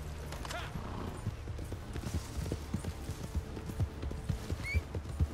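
Horse hooves clop along in Red Dead Redemption 2, a quick, uneven run of soft thuds under low game ambience, with a faint whinny-like tone late on.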